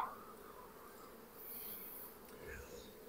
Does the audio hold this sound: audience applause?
no